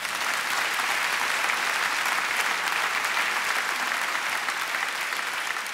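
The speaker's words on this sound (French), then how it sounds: "Vous pouvez l'applaudir très fort." A theatre audience at a comedy festival in Liège claps loudly and steadily, dense continuous applause that fills the whole stretch without a break or any voices.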